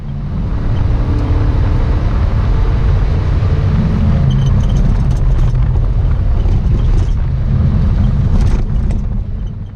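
A Toyota MR2 Spyder with the 1ZZ engine pulls through a fast left-hand curve, its steady low engine drone loud and continuous with wind rush throughout and no talking.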